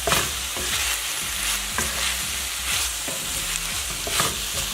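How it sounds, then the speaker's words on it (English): Beef and green beans stir-fry in a hot pan, with a steady sizzle and regular scraping stirs of a utensil roughly every second, close and loud, with no talking. "We're now going to add the veggies back into the pan."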